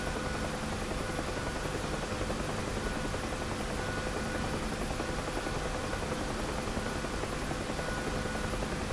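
An airplane engine in the DCS World flight simulator drones loudly and steadily with a dense, even roar that never changes in level, with no other sounds over it.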